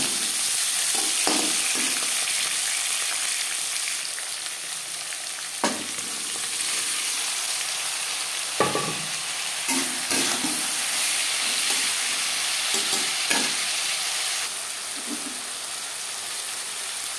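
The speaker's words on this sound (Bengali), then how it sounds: "10-15 সেকেন্ড ভেজে নেওয়ার পর দিয়ে দেবো পেঁয়াজ কুচি," Chopped onion and tomato sizzle steadily in hot mutton fat for yellow pea ghugni, with a constant frying hiss broken by periodic scraping stirs of a spoon against the pan, close and fairly loud.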